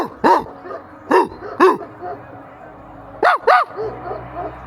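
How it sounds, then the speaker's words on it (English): A dog barks outdoors at a distance, two pairs of sharp barks separated by a short pause, clear against a quiet background with no talking. "he's over there, he's barking."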